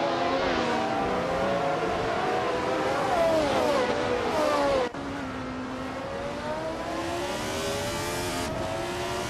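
Race cars including a 1971 Surtees TS9 roar through a race, engines whining up and down in pitch as they rev and pass, a continuous loud mechanical drone with a sharp cut midway.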